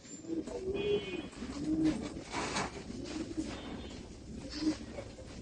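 Chocolate-colored racer pigeons and squabs coo in low, soft, rolling calls, several overlapping at close range, with faint chirps and light background noise and no speech.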